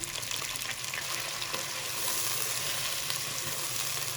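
Chicken sizzles steadily in hot oil with salt and ginger-garlic paste, a close, even frying hiss with faint stirring, for a degi chicken pulao.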